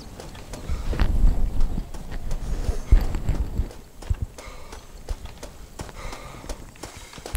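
Horse hooves in the video game Red Dead Redemption clip-clop in quick, uneven beats, louder at first and then lighter and more scattered, with faint background noise.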